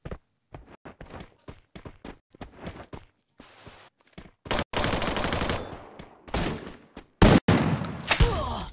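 Gunfire in the mobile battle game Garena Free Fire: scattered single shots and footstep-like taps give way to dense, loud automatic bursts in several close volleys, with silent gaps between them.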